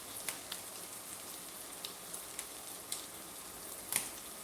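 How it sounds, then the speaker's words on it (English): Shrimp sear in a stainless steel pan with a faint, steady sizzle, broken by a handful of sharp little pops and crackles spaced unevenly over a few seconds. "We're gonna let those get a nice little sear on the bottom side."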